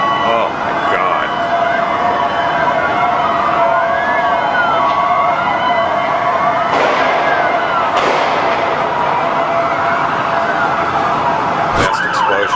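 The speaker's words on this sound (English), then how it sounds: "now there's a lot of police activity and sirens" Wailing police sirens rise and fall over a continuous roar of background noise near the World Trade Center 7 collapse, with a sharp bang near the end.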